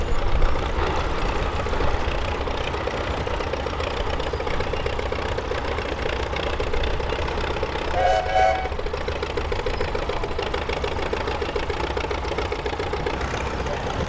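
A 1944 Case LA tractor engine runs steadily at an outdoor steam and gas threshing show, a continuous loud chugging drone with a brief higher whine partway through.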